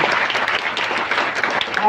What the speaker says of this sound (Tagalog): Ay, yung palakpak ninyo parang